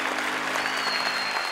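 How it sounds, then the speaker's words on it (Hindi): An audience at a stage show gives a guest a loud, continuous round of applause that stays full and even from start to finish. "जोरदार तालियों से उनका स्वागत करेंगे"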